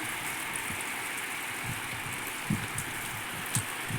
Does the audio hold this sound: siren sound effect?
no